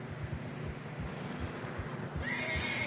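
A horse whinnies in Red Dead Redemption 2 while horses struggle through fresh snow, with a high, drawn-out cry near the end over steady low hoof thuds and a windy rushing background.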